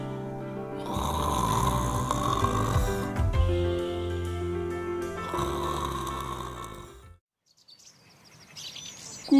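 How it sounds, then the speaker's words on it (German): A sleeping shepherd snores loudly and close, two long drawn-out rasping breaths with a brief gap between them, fading to quiet at the end. "Nach diesem Ereignis mit den tanzenden Nixen schlief er selig ein."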